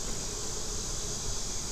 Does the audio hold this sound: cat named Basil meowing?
no